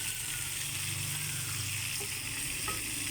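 Fish frying in a pan, a continuous close hiss and crackle of hot oil held at a steady level for a few seconds with no talk.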